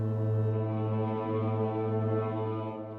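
A trombone holds a low, steady, droning buzz in imitation of a Shahed drone, sustained and even for several seconds at moderate loudness, with no talking.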